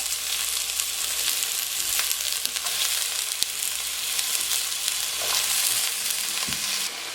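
Asparagus sizzles steadily in a hot pan while making soup, a continuous bright frying hiss with small crackles and a few soft clinks of stirring throughout.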